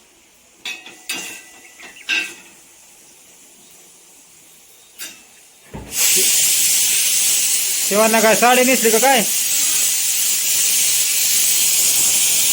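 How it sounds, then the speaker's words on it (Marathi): Brief speech and clattering give way to a loud, continuous hiss of steam from a pressure cooker that runs to the end, with a short voice passage over it. "कुकर लावलेला आहे."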